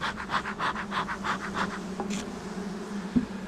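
Honeybees buzz at close range around an opened hive during a winter bee yard inspection, a steady hum with soft scraping and handling noises of the lid and a few sharp knocks at the end.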